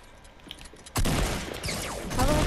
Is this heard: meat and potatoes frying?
no